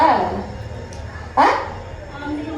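A person imitates a dog barking, giving two sharp, yelping barks about a second apart, loud and close, with a little voice between them.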